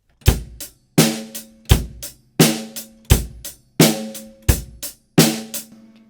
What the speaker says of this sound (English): if you haven't heard of what the basic drum groove sounds like